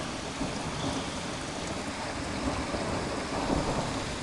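Thunder rolls as a continuous, broad rumble during a lightning storm over the New Forest, blended with steady rain and never dropping away across the span.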